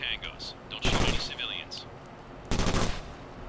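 Gunfire from a weapon tested in the video game Takedown Red Sabre comes as two loud bursts of rapid shots, the first about a second and a half long and the second shorter, with softer game sounds in between.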